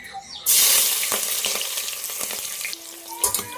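Onions and green chilies hit hot oil with a loud sudden sizzle that crackles on steadily, stirred a few times, with clinks of a utensil against the pan.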